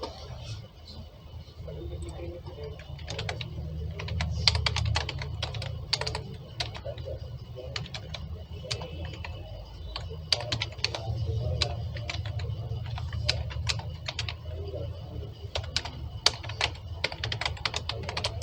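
JavaScript code is typed on a computer keyboard in quick, irregular bursts of close, crisp key clicks over a low steady hum.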